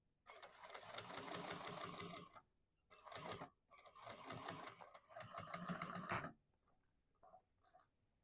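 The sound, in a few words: sewing machine top stitching through bag lining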